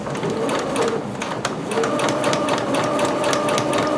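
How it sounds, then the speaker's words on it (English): Sewing machine running a long basting stitch along a garment vent, a rapid mechanical whirring with a quick ticking rhythm, close and fairly loud, briefly easing before running on. "using a long machine stitch, you're going to just baste that vent"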